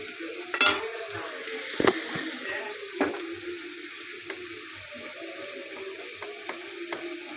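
A little water is splashed into turmeric and spices frying in a pan, with a few sharp splashes and scrapes over a steady low sizzle. The pan is close and the sound is fairly quiet.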